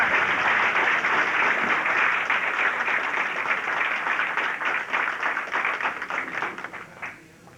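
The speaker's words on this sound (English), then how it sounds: "give a big round of applause to bookkeeping accounting clerk." Audience applause at a 1986 vocational training center graduation ceremony in St. Louis, a dense wash of clapping that starts full and gradually thins into scattered claps before fading out.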